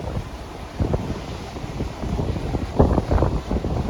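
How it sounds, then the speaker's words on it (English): Heavy surf rolls and breaks along an ocean beach on a rainy, windy coastal walk, a steady roar with swelling crashes, wind buffeting the microphone throughout. "Look at these waves."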